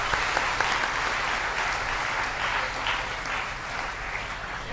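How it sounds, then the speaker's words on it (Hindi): A large audience at a Ram Katha religious discourse breaks into sustained, dense applause that holds steady and close for the whole stretch, with no voice rising above it. "सबके लिए तालियां।"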